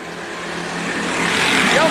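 Stock cars at Tucson Speedway in a NASCAR Weekly Series race roar with rising engine noise as they accelerate on a restart, growing louder over two seconds.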